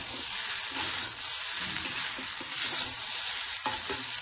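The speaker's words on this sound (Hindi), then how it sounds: "डाल के वेजिटेबल्स के साथ फ्राई कर लेती हूँ।" Vermicelli frying with mixed vegetables for semiya upma, a continuous close sizzle and hiss with soft stirring scrapes, no voices.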